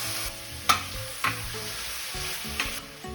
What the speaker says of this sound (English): which is our onions and garlic. We're going to let that brown a little bit as well.